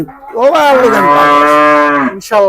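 A deshi or Friesian cow at the Gabtoli cattle market lets out one long, loud, close moo lasting well over a second, then falls briefly silent before another call starts.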